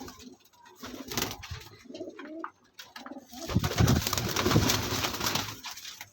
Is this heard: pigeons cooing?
yes